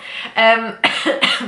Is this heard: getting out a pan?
no